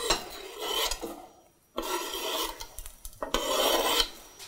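Onion in olive oil in a small pot over low heat is stirred and scraped in close, rasping strokes. There is a brief pause before the scraping resumes and grows louder.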